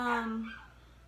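A dog barks once indoors, a single sustained bark trailing into a whine, fairly close and loud with nothing else over it.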